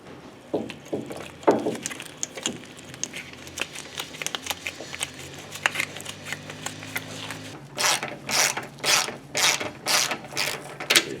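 Ratchet wrench tightening bolts while installing a Detroit Speed Wonder Bar on a third-generation Camaro, with scattered clicks at first and then a run of loud, rhythmic ratcheting bursts close up.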